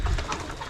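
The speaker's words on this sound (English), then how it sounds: "Yeah, good healthy birds." Healthy farm birds coo softly and close by in a brief, low burst of throaty pigeon-like cooing, with no talking.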